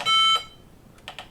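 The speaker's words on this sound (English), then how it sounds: "So I switched this on and it should beep." Internal speaker of a Kickstarter 2 Next computer giving a single loud electronic beep at power-on, picked up from a short distance, followed by a couple of faint clicks.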